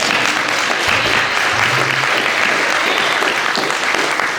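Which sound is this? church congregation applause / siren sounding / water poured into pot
church congregation applause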